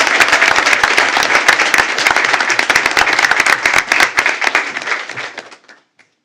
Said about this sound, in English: Ladies and gentlemen, how about a big round of applause for Mr.